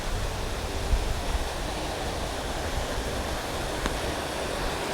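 Running water in a canal beside a bridge: a steady, broad, rushing wash that stays even and fairly close throughout, with no voices.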